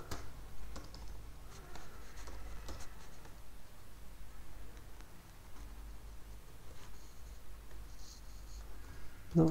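Typing on a computer keyboard, soft irregular clicks and taps at a quiet level over faint background noise.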